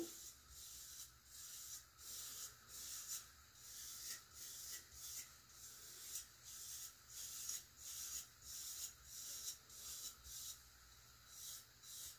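Hands rubbing beard oil and beard butter through a beard, a soft rhythmic brushing and scrubbing of hair in repeated strokes, close and quiet with no talking.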